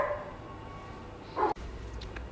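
A dog in a home gives a single short, muffled bark in the middle, rising briefly over a quiet room hum.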